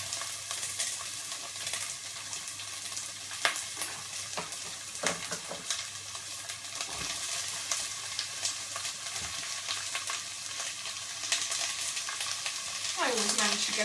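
Courgette sizzles and fries in a pan, with a soft steady crackle, occasional stirring scrapes and a few clatters, fairly quiet and without speech.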